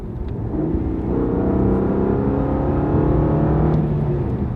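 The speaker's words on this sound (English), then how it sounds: "even though it's a V6, it still makes a decent sound" A GM car's V6 engine revving up from idle, a close, loud droning rumble with engine tones rising and holding steady, then surging once more toward the end, with no talk over it.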